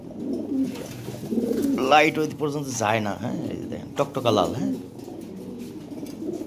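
European Lahori pigeons coo softly in the background while someone talks over them for most of the stretch, the birds' low murmurs sitting under his voice.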